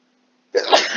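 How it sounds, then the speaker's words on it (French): A single sharp sneeze bursts out close by after near silence, loud and sudden, trailing off briefly. "ça n'est pas le Covid, c'est juste un petit éternuement"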